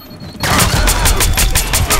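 Rapid gunfire in the stealth shooter game Splinter Cell Blacklist, a burst of close, loud repeated shots starting abruptly after a quiet moment and continuing in a fast rhythm.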